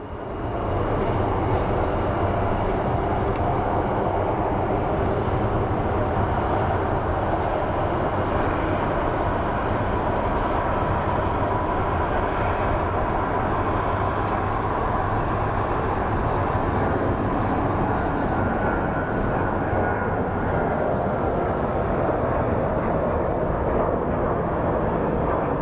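Steady, loud jet engine roar from an airplane at Phoenix Sky Harbor International Airport, a continuous broadband rumble holding for the whole stretch with no voices.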